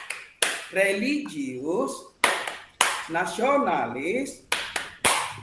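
Rhythmic tepuk PPK classroom clap led by a teacher: sharp hand claps and taps mark the beats between chanted words from the teacher.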